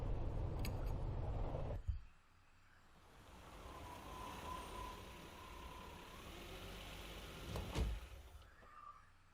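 A car in the video game Death Mark, with a low engine rumble that cuts off, then a quieter hum, a faint tone, and a sharp door-like clunk near the end, no voices.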